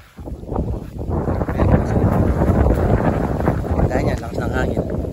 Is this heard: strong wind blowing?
yes